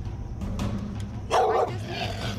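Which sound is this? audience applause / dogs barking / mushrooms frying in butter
dogs barking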